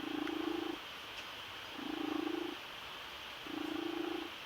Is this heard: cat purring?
yes